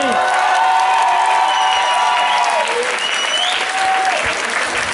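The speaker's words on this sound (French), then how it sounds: "On applaudit tous Bertrand" Dense, loud applause from an audience at a live French stage show, sustained and steady for the whole stretch, with faint tonal whistles or cheers layered in and fading slightly toward the end.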